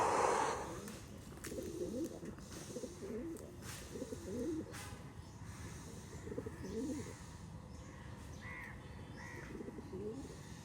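Domestic pigeons coo in soft, low, repeated phrases, faint and somewhat distant. Other bird calls and light background noise sit around them, and no one speaks.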